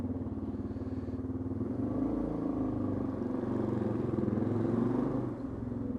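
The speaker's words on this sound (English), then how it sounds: "I'm gonna start setting off car alarms if I rev this anymore." A Suzuki DR650 dual-sport motorcycle engine revs up repeatedly close by, its loud, throbbing single-cylinder rumble rising and falling in a few swells with no voices.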